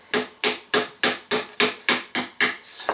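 A small hammer taps a push pin into a metal can for a penny can stove, nine sharp, evenly spaced knocks close up, each with a brief ringing tail, and no talking.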